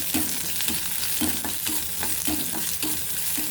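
Dried red chillies frying in oil in a pan while cooking snake gourd poriyal, a steady close sizzle with a regular rhythm of stirring scrapes about twice a second, no voices.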